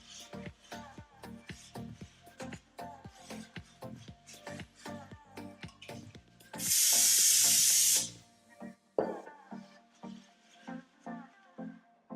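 A can of super degreaser, like a brake cleaner, gives one sharp, bright spray burst of a little over a second amid close shuffling and handling noises.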